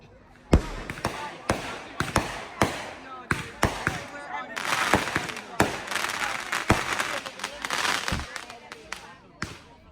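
Fireworks burst over a Kavadi temple festival at night, a rapid series of sharp, loud bangs and cracks at irregular intervals, with crowd noise and voices filling the gaps between explosions.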